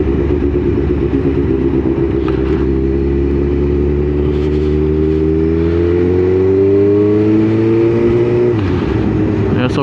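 A motorcycle ridden through Birmingham city centre traffic gives a loud, close engine drone whose pitch climbs smoothly through the gears, then briefly dips as the throttle eases.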